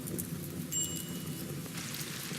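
Rain falling in the video game Rimworld, a soft, even hiss of raindrops, faint and continuous with no voices.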